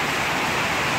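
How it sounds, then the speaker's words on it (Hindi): Steady broadband rain pours onto a shade over a rooftop garden, a dense continuous hiss with no break, loud and close, with no voices. "अगर मैं आपको दिखाऊँ थोड़ा सा जूम करके तो बारिश कितनी स्पीड से हो रही है ये देखिए"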